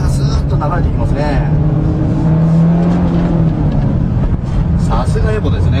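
A Mitsubishi Lancer Evolution X accelerates hard through a corner on a test track, its engine note droning steadily and loudly throughout while someone talks over it from inside the car.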